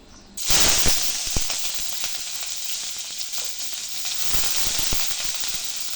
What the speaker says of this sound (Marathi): आता त्याच्यात कांदे टाकू.